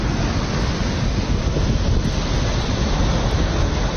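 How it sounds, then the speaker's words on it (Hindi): Water gushing from a burst water pipe that forms a large fountain near a highway in Qassim: a loud, steady, unbroken roar of rushing spray, with no voices. "هذه اعتقد انها اكبر نافوره في القصيم"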